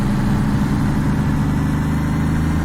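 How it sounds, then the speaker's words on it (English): A truck engine in the Alaskan Road Truckers video game revs high and steady, a loud, continuous low drone with no pause, heavy and constant, with no talk over it. "So in real life, I wouldn't be revving the engine this high."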